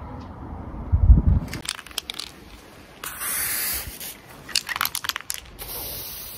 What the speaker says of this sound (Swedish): Jag börjar med att spraya sträckmarkeringar där kabeln ska dras fram.